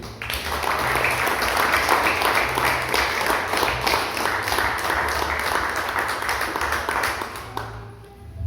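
Children applaud at a church lesson, a steady wash of clapping that lasts several seconds at moderate loudness before thinning out near the end, with a low hum underneath.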